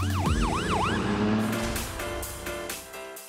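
Wailing siren of a UK paramedic emergency vehicle, its pitch sweeping up and down in repeated cycles, loud and close at first, then giving way to a busier mixed soundscape.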